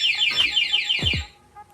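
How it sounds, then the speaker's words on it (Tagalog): Anti-theft alarm on a Yamaha Sniper 155 motorcycle after remote locking, loud warbling electronic siren tones sweeping up and down for over a second, with a couple of low thumps, then fading. "Kasi nag-alarm yung motor, hindi po titigil yan."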